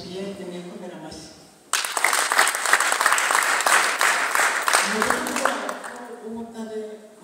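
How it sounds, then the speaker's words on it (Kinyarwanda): A crowd applauds at a village Liberation Day gathering. After a voice speaks briefly, loud, dense clapping bursts in and holds for several seconds, then tapers as quieter sounds return. "ndabashimiye nimwikomera amashyi."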